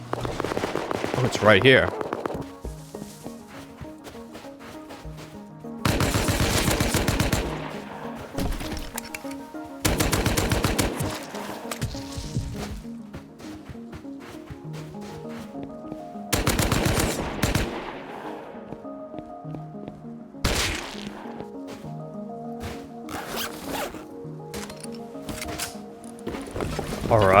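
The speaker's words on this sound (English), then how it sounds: "I'm hearing shooting outside" Bursts of video game gunfire from a desert bunker build, rapid automatic volleys crackling in several loud clusters with gaps between them, with a voice speaking briefly.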